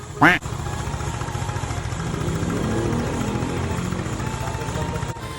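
A motorcycle engine, left sitting unused for a year, runs unevenly with a rough, sputtering drone, close by, while someone talks over it; a sharp click sounds at the start.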